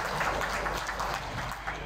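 An audience at a shoe factory's product launch event in a hotel hall claps for an honoured woman guest, giving a fairly faint, even patter of many hands throughout.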